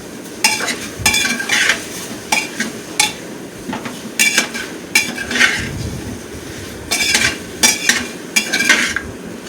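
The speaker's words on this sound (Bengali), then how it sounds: "একটু নাড়াচাড়া করে নিচ্ছি।" Turmeric being stirred into chicken in a pot for a healthy chicken soup, a spoon scraping and clacking against the metal in repeated bursts over a soft background sizzle, close and without voices.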